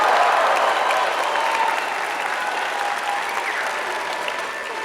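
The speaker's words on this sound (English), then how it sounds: "I ask your friends and family to join me in applauding the amazing graduating class of June" A convocation audience of friends and family applauds a graduating university class, a dense, steady wash of clapping that fills the whole stretch and eases off only slightly toward the end.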